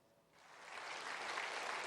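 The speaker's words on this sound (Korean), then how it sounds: "여당 의원들이 기립박수로 환영했지만" Ruling-party lawmakers give a standing ovation in the National Assembly plenary chamber as the president enters, with faint applause that builds from near silence into a steady, sustained clatter.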